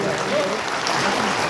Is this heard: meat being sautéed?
no